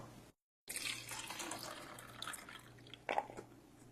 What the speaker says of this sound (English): What about this wash with tap water?